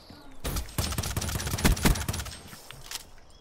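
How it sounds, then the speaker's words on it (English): Rapid bursts of gunfire from a Call of Duty: Black Ops III multiplayer match, a dense fusillade of automatic shots with sharp individual cracks, loud and close, tapering off toward the end. "I knew it was you because I heard gunshots."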